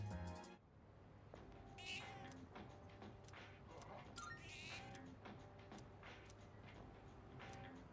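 A cat in the video game Persona 3 Reload gives several short, faint meows scattered through a steady background of game music and noise, heard at a distance.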